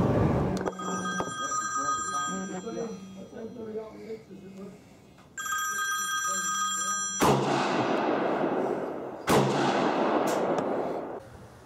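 A P-64 pistol fires two sharp, loud shots several seconds apart, each followed by a brief ring, after someone talks over a repeating electronic beep.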